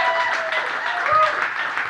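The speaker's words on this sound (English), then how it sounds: "Give old Josh Jones a round of applause" Audience at a touchdown club coaches show applauding, a continuous moderate clatter of clapping with voices mixed in, steady for the whole moment.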